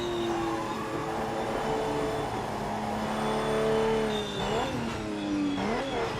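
Racing cars in the PC racing game PMR rev and accelerate, with rising and falling engine tones overlapping at a steady moderate level and no talking.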